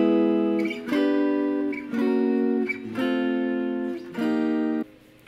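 Clean guitar plays a jazz turnaround phrase from a tune, a series of sustained chords that rise then fall, struck alone in even groups with no talking.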